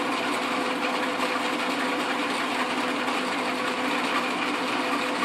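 An Atlas Craftsman QC42 lathe cuts down a tailstock nut, giving a steady, loud, continuous mechanical whir and grinding hum with no pauses, close by and alone.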